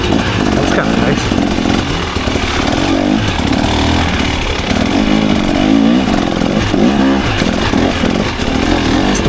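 A 2024 KTM 300 XCW dirt bike's engine drones loud and close throughout a ride, its pitch rising and falling with the throttle as the bike cruises through terrain.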